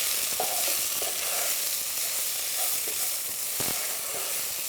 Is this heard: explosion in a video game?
no